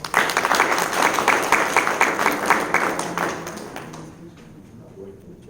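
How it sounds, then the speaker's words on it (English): Audience applause at a community meeting in Belle Glade: brisk, dense clapping from a roomful of people for several seconds, then thinning out and fading as it ends. "Give her a round of applause."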